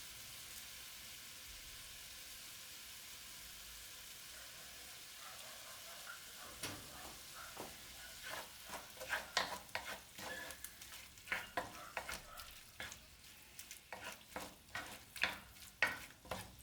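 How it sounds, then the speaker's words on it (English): Pork stirred in a pickle sauce seasoned with paprika, salt and peppercorns: a low simmering hiss at first, then repeated spoon scrapes and clacks against the pot, growing louder and more frequent, with no talking. "Give it a good stir."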